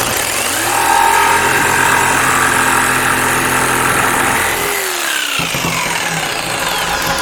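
A jigsaw cuts freehand through wood for a dog bowl stand, its motor a loud, steady buzzing drone throughout that sags briefly in pitch near the end before picking back up.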